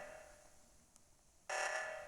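An alarm in the game Among Us sounds as a faint steady buzzing tone, fading, then cutting in suddenly louder and bright for the final half second.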